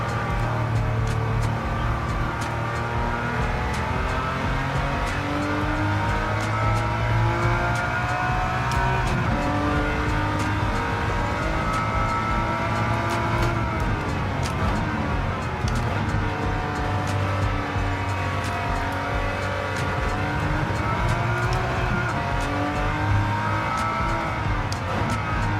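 A Jaguar E-Type races in Gran Turismo 7 on PS5, its engine revving and shifting continuously with rising and falling pitch sweeps, loud and unbroken throughout, with occasional tyre squeal and no talking.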